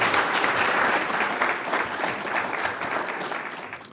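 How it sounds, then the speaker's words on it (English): Sustained audience applause fills an energy conference hall honoring a panel of speakers, dense and steady clapping that gradually thins toward the end, with no talking. "how about a round of applause for my 4 panels here?"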